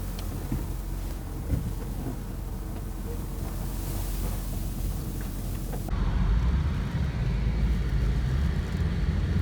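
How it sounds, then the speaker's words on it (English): Convertible car cruising top-down on a summer day, with steady wind rush and road noise throughout that grows louder and heavier partway through as it speeds up. "there's nothing like top-down cruising on a beautiful summer day, especially when you can put the pedal to the metal"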